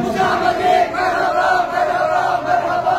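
A procession crowd marking Milad-e-Mehdi Mauod among Mehdavi Muslims in Channapatna roars a slogan in unison, a loud, close, sustained chorus of voices with slight swells over three seconds.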